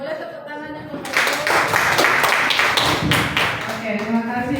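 A room of teachers at a vocational school workshop breaks into a burst of applause lasting about three seconds, loud and dense, with a voice talking before and after it.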